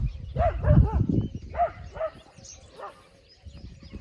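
A dog barks several times in short bursts, moderately close, with some rustling and low background noise between barks.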